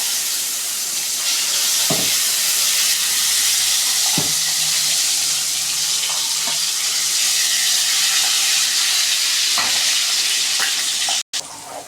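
Ground mint paste frying in hot oil for pudina chutney, a steady close sizzle and hiss with a few soft spoon-stirring knocks, alone without talk.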